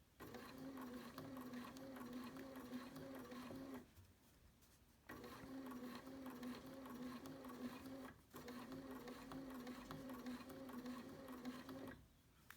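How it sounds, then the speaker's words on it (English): A BERNINA sewing machine with a #88 bias binder attachment stitches binding onto a face mask in three steady runs of even whirring, separated by short pauses, close and fairly quiet. "So I'm going to stitch very slowly to be sure that everything is pushed in close"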